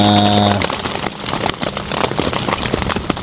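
Heavy rain pelting a tent at a campsite during a downpour, dense crackling patter close overhead, preceded by a brief tonal hum that cuts off.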